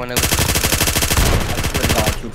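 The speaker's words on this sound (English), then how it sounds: "I'm getting shot at" Loud, continuous automatic gunfire from the shooter game Aftermath, a rapid rattling burst of shots that runs unbroken and close for a couple of seconds.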